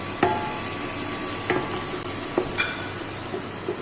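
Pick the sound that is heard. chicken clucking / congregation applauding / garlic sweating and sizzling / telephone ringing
garlic sweating and sizzling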